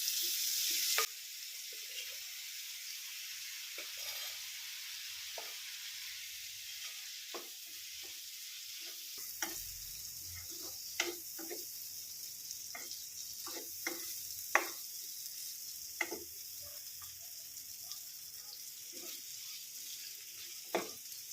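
Cooked prawns go into a jackfruit seed curry simmering in a pan, with a low, quiet sizzle under scattered spoon clinks and scrapes from stirring, and no talking.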